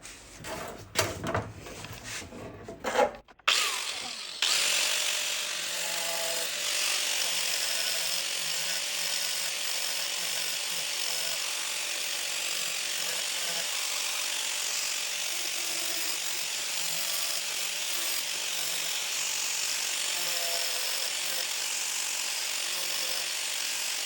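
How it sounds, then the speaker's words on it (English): A worn 60-grit flap disc grinds steadily against a metal fender skirt for a 1953–54 Chevy, a continuous hissing roar that follows a few brief clanks and handling knocks at the start. "I'm going to hit this now with a fairly worn out 60 grit flap disc"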